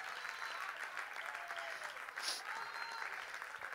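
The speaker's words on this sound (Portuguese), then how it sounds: "Você pode dar um aplauso." Congregation at a Portuguese-language Bible study applauding steadily, a dense even wash of clapping that holds at moderate level throughout, with a faint voice underneath.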